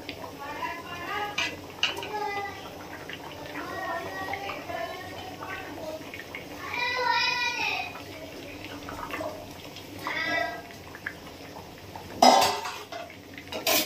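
Fried eggs go into a pot of nearly cooked potato curry and are stirred in, with metal spoon and pot clinks and clatter scattered throughout. A person talks over the kitchen sounds, and a sharper clang comes near the end.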